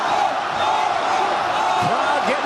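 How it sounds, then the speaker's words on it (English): A fight crowd roars loudly and continuously, a dense wash of cheering with shouts rising near the end. "Crowd getting loud."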